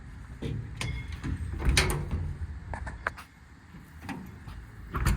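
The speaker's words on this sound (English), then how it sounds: "All the doors close, latch, lock, and seal as they should." Storage compartment doors on the IMT Dominator utility bed of a 2015 Ford F-550 diesel service truck close and latch, giving several sharp knocks and clunks spread across the stretch, with no talking.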